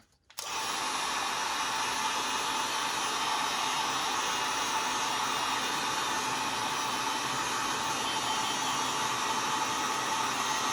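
A heat gun blows a steady, loud whoosh of hot air over the foam of a Hasbro wand kit, starting abruptly and holding constant without pause.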